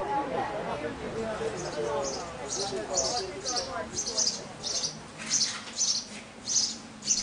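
Birds at a restored abbey and monastery give a rapid series of high chirps that repeat steadily through the second half, fairly faint and a little distant, under a voice talking in French.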